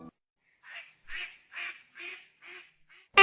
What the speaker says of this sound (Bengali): এরপর রাজহাঁস পুকুরে নামে।